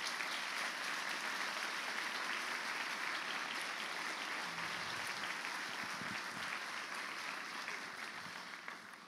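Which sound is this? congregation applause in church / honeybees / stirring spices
congregation applause in church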